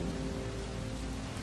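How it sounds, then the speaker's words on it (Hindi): Heavy downpour from an African thunderstorm, a dense, loud, steady wash of rain noise with a low rumbling undertone, with no voices. "मूसलाधार बारिश शुरू हो गई है।"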